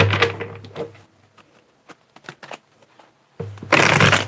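Tarot cards riffle and shuffle in two bursts, with soft taps and clicks between, heard up close.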